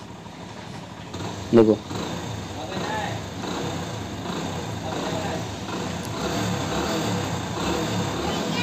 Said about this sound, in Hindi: बिल्कुल फर्स्ट क्लास साउंड है इंजन का, बहुत बढ़िया साउंड हो चुका है।